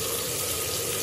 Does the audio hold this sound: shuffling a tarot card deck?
no